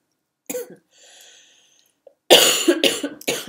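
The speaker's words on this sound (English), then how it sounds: "No more of those fake coughs" A few sharp, forced coughs close to the mic, with a brief wheezy exhale between them.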